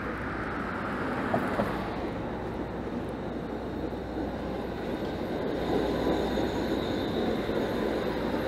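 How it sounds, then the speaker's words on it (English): An eastbound light rail train rumbles past at a distance in Toronto, a continuous rolling roar of wheels on track with a faint squeal early on, no voices. "another eastbound train here"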